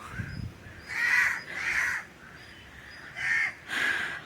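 Several crows cawing nearby, four or five loud harsh caws in a loose irregular series with short gaps, no talk.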